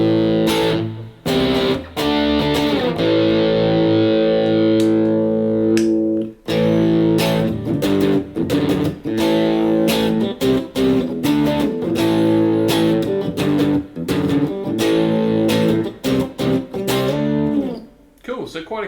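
Electric guitar played with a crunchy overdriven tone through a Yamaha THR10 II amp with reverb, chugging chords and sharp stops with short rests, loud and close, alone with no talk over it.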